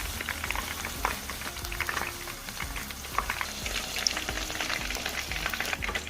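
Battered shrimp tempura deep-fries in hot oil with a dense, steady sizzle and crackle of tiny bubbling pops that continues without a break at moderate volume.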